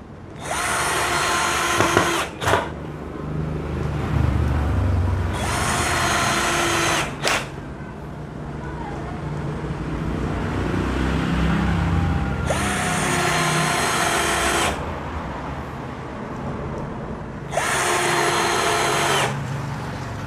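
A Hiroki impact drill set to screw mode whirs loudly in four separate bursts of a few seconds each, with quieter gaps between them and no talking.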